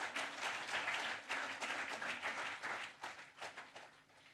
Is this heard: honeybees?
no